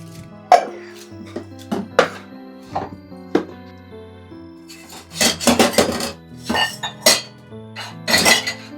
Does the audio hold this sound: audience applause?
no